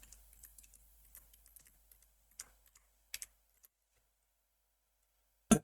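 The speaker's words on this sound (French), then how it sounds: "on tape Windows Terminal." Sparse, quiet keystrokes on a computer keyboard tap in irregular clusters, then fall silent before one louder final key press, with no talking.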